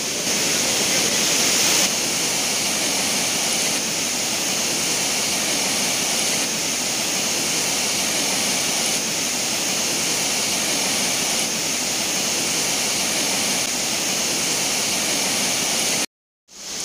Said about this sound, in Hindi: वहां से ऊपर से पानी आ रहा है वहां पे।